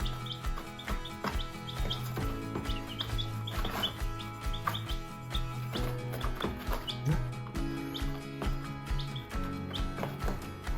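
Many five-day-old backyard chicks peep and cheep in a constant high-pitched chorus of rapid chirps, with a low steady hum underneath.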